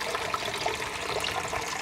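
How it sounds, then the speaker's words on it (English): Steady broadband water noise from an aerator bubbling and churning the water in a small farm fish pond planted with lilies, continuous and fairly close with no talking. "I have something here to aerate the water somewhat."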